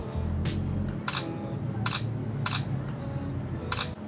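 Shutter clicks from an OPPO A3S smartphone camera, four short sharp clicks spaced about a second apart over a low, steady background hum, no speech.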